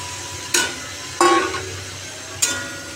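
Pointed gourd with spices stirred in a hot pan, with three short scraping, sizzling strokes of the spoon spaced a second or so apart over a low, steady background.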